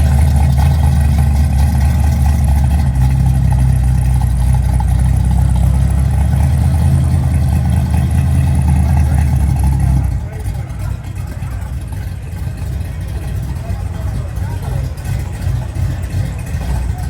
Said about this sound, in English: Let's listen to this little AMC with a 440 in it.